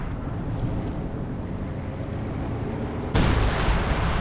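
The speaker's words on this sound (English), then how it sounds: "the howitzer is firing away" Howitzer artillery in the strategy game Company of Heroes 2 fires a single heavy boom that bursts in loudly after a steady low rumble of battlefield ambience.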